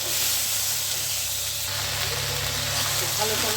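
Ivy gourd and potato dropped into hot white oil with fried dry red chillies, a close hissing sizzle that swells midway and keeps going, with a voice speaking over it.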